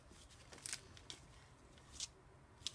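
Scissors snip through paper crafting material from a Vintage Charm scrapbooking kit, a few short, crisp, quiet cuts spaced irregularly against a soft background hiss.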